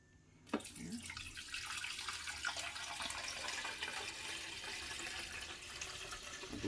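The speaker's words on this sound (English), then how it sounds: "Now we fill her up with water." Water runs steadily into the reservoir of a Keurig K-Supreme Plus coffee maker after a sharp knock at the start, a continuous close rushing pour that fills the rest of the clip.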